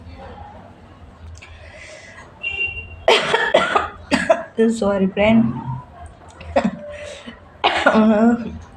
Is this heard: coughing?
yes